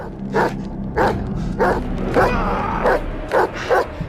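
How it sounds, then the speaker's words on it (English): Wild dogs bark in repeated sharp bursts, about seven in four seconds, while attacking a man in the desert, loud and close over a constant rumbling background. "The dogs kept on attacking him furiously by surrounding him from left to right."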